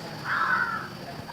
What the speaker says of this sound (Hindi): आपको कौवे की आवाज सुनाई दे रही होगी बीच बीच में